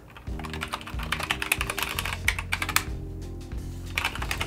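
Someone types a Linux sudo command on a computer keyboard, a quick, close run of crisp key clicks and thumps with no talking.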